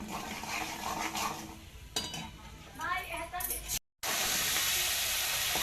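Ground egg-curry masala fries in oil in a pan, its hiss broken by scraping and clinking as a utensil stirs it. A voice talks over the cooking, and the sound cuts out briefly before the sizzle returns.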